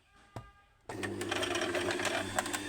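A domestic sewing machine, also used for embroidery, starts from near silence when the foot pedal is pressed. After a single click it settles into a steady, close mechanical whir with a rapid stitching rattle.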